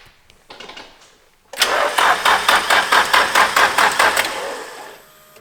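A Nissan S13 car engine is cranked with its fuel pressure regulator plugged in, giving a loud, rhythmic series of about a dozen starter-motor chugs after a few brief clicks. It cranks without clearly catching, then stops.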